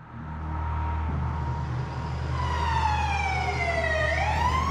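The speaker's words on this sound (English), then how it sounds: "Trying to get the ambulance before they take off." An ambulance siren wails steadily over rumbling traffic, its pitch sweeping down and then rising again, loud and fairly close.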